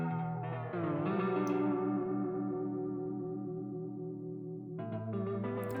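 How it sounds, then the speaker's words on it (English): Sustained music passes through a delay effect as its variable delay is turned up, so the repeats bend and warble in pitch before a fresh note enters near the end; no voices. "Now, if I turn the variable delay up,"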